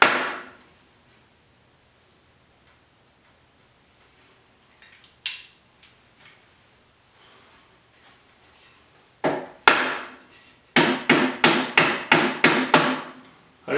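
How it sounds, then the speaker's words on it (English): A roofing stapler fires in sharp, snappy bangs: a few scattered shots, then a quick regular burst of about eight staples near the end, with quiet pauses between. "All I got is my roofing stapler here."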